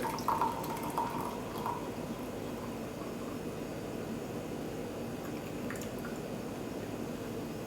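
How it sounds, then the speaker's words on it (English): Brewed white tea pours from a teapot into a pitcher, giving a steady, soft liquid trickle with a few brighter drips near the start, close by and alone. "pour the tea into the pitcher."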